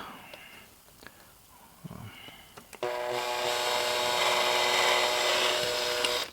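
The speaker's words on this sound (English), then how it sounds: "I will take it from there with another drill" A power drill whirs up suddenly and runs steadily at high speed, preceded by a few soft taps and handling noises.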